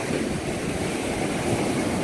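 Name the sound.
ocean waves coming in on a sandy beach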